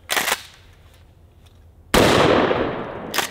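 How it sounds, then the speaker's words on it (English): A pump-action trench shotgun slam fires close by, one sharp loud blast followed by a quiet pause, then a longer roaring burst and another report at the end. "So I've got four rounds in the magazine tube. I think it holds five or six, but we'll start with four and see what this slam fire is all about."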